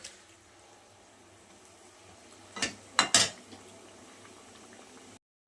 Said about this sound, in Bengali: আমি একটু ভালো করে কষিয়ে নেই